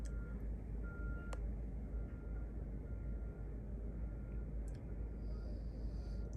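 A bus reversing near a crowded street protest by Parliament Hill, with faint intermittent beeps under a loud, constant rumble of idling engines and crowd noise.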